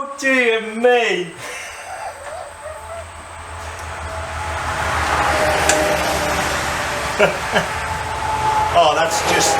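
SM Highboy Special motorcycle engine, a rough-running vintage single, idles unevenly in a garage with the door open, a steady rumbling drone following a brief stretch of talk at the start.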